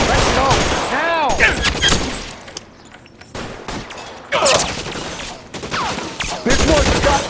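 Bursts of gunfire crackle through an L.A. Noire shootout in a back-and-forth exchange of volleys, rising and dropping away between loud clusters, with shouted voices heard amid the shots.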